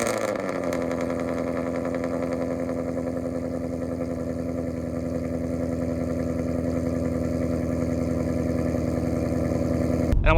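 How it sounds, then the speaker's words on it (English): A Ford Mustang with an aftermarket exhaust fires up on a cold start, settling into a loud, steady, deep rumbling high idle that drones on for about ten seconds before cutting off. "So I'll include a shot of the cold start here."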